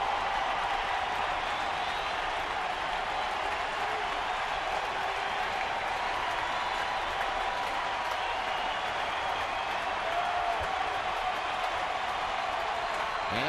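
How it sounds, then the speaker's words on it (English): A sellout baseball crowd in a stadium, a steady broad roar of cheering and noise holding evenly throughout, distant and continuous. "This sellout crowd now starting to get into it"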